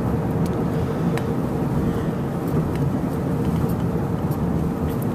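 A car drives steadily along a road, with an even, continuous low road and engine rumble and no talking.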